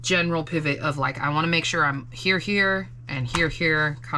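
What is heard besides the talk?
No everyday noise stands out behind the speech.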